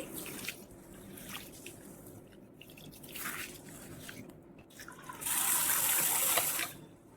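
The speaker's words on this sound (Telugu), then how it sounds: "ఇంకా లాస్ట్లో 1 టేబుల్ స్పూన్ మెంతులు యాడ్ చేసి ఒక 2-3 టైమ్స్ మంచిగా కడగాలి" Lentils, rice and fenugreek seeds being washed by hand in a bowl of water, soft sloshing and dripping splashes that swell into a brief louder gush near the end, close but gentle.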